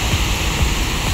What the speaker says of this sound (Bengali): উপর থেকে প্রচণ্ড পানির চাপে এখানে পানি পড়তেছে